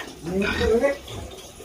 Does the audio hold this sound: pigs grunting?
yes